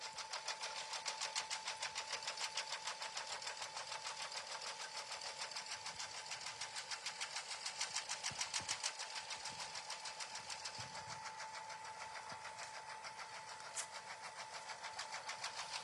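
A home embroidery machine stitches a mug rug design at the 5x5 hoop size, its needle hammering in a fast, steady mechanical rhythm close by for the whole stretch, with brief faint knocks near the middle and no voices.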